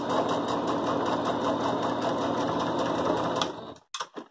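A sewing machine stitches fabric scraps together for crazy patchwork with a steady, fast mechanical whir that runs for several seconds, then stops and is followed by a few soft handling sounds.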